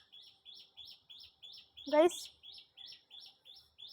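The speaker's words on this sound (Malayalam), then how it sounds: "കിളി എന്ന് പറഞ്ഞപ്പോൾ തന്നെ കിളി എവിടെ നിന്നോ കൂവണ് ഗൈസ്" Small songbird chirping nearby in a home garden, a steady run of short high tweets repeating about every third of a second, with a man's brief speech cutting in midway.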